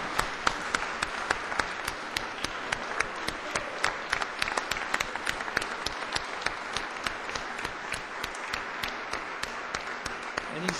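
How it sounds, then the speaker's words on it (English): Audience in a Senate chamber applauds a military sergeant being honored for his service, a dense, steady clapping that fills the room without pause for about eleven seconds. "Let's give him a round of applause to Sergeant John Farrell."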